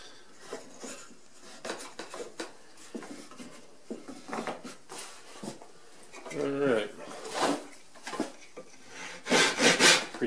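A hand saw cuts a piece of poplar held in a Moxon vice, with repeated rasping strokes that grow louder and faster near the end, mixed with a few wooden knocks.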